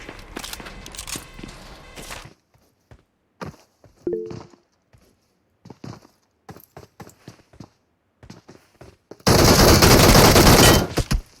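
Gunfire in the mobile battle royale game PUBG Mobile: scattered single shots and footsteps across mostly quiet stretches, closing with a loud, sustained automatic burst near the end.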